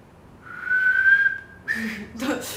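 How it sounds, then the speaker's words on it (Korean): A person whistles one rising, sustained tone lasting about a second, followed by a short second whistle, with brief breathy talk near the end. "휘파람 할 수 있네요."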